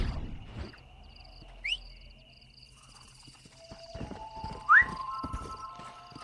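In the Red Dead Redemption video game, a horse's hooves clip-clop in an uneven walking rhythm while it lets out two short, sharp whinnies, the second louder, over a quiet outdoor game ambience.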